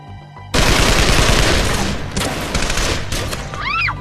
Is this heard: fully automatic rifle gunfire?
yes